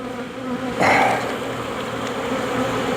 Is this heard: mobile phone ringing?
no